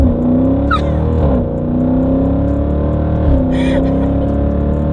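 A Jeep SRT accelerates hard at full throttle, its engine roaring loudly with rising pitch, a brief dip during a gear change, then climbing again. Voices can be heard faintly beneath it.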